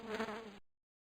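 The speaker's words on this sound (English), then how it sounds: "Fly." A fly buzzing, a short close drone with a wavering pitch that lasts about half a second and then cuts off into silence.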